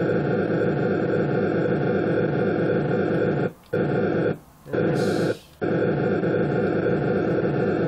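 An Atari 2600 homebrew game's spaceship engine tone: a loud, steady droning hum with harmonic buzz running throughout, broken by three short gaps near the end, with no talking.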